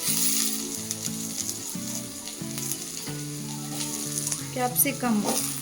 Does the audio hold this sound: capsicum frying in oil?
yes